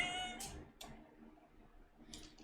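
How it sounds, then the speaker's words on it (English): A pet cat lets out short, close meows right up against the microphone, a few separate chirpy calls broken by quiet gaps while a game plays faintly behind. "I like that your cat knows to meow into the microphone"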